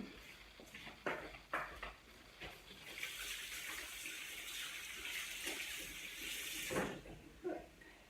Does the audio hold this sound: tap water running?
yes